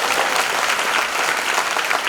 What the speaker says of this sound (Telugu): గట్టిగా చప్పట్లు కొట్టి స్తోత్రం చెప్పండి.